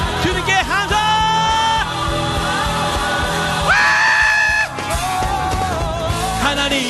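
A youth worship crowd at a 2023 Yeoncheon Christian youth praise gathering, shouting loudly and together in screams and whoops, a sustained roar of many voices.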